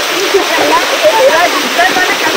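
Steady, dense rain hisses loudly and evenly throughout, with faint voices partly buried beneath the downpour.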